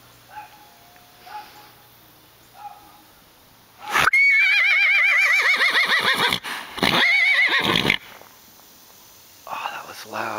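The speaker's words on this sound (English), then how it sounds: "So I think the donkeys are over there eating at somebody's house. And that might be them talking to each other from far away." Donkeys bray loudly from a distance in a long, wheezing see-saw call, followed by a second burst, with faint rustling and quiet sounds before and after.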